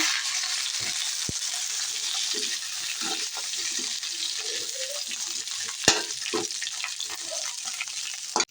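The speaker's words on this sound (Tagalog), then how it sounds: "Lagyan na po natin yung prinito nating chicken" Fried chicken and garlic sizzle in a pan with a continuous crackling fry, broken by scattered clicks and scrapes of stirring, close and fairly loud, with no talk over it.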